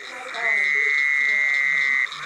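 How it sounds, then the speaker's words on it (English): A Fowler's toad gives one loud, nasal, buzzy call lasting about a second and a half, close and alone against faint outdoor background. "That is the Fowler's toad."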